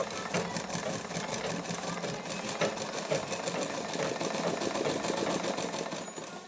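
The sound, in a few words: sewing machine stitching cloth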